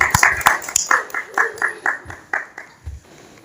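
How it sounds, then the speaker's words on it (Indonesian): A small group at an Islamic study gathering claps in a brisk, fairly regular rhythm, the claps gradually thinning out over a few seconds. "Tepuk tangan sekali lagi"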